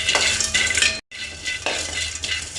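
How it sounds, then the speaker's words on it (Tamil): Star anise dry-roasting in a hot empty pan for garam masala powder, stirred with a utensil that scrapes and rattles the pods against the metal in loud, continuous strokes, with one brief pause. "அன்னாசி பூவை நல்லா வறுத்து எடுத்துக்கலாம்."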